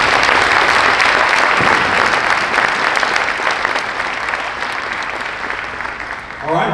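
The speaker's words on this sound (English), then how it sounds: "Let's please give them a round of applause." Loud, sustained audience applause for teachers at a senior awards night, a dense crowd clapping that gradually tapers off before a voice begins at the end.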